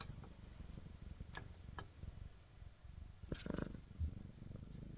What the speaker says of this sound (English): Enjoy the purring and the sweetness.